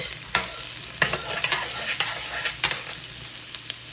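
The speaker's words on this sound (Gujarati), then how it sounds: "હવે આના થોડુંક મિક્સ કરી દઈએ એટલે છૂટી ડુંગળી પડી જાય" Onions and garlic fry in a pan with a steady sizzle while a spoon stirs and scrapes in sharp, irregular clacks, close and with no talk.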